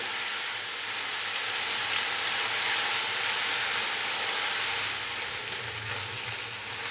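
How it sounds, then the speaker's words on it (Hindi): Sliced onions fry steadily in oil over a medium-low flame for a potato curry, giving a continuous, even sizzle with a soft crackling hiss throughout and no talking. "अभी मैं इसको 3 से 4 मिनट के लिए मीडियम स्लो फ्लेम पे भून लूंगा ताकि प्याज अच्छे से"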